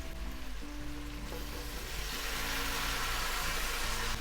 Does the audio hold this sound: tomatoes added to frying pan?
yes